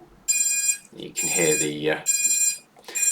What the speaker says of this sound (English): ESC's beeping in the background.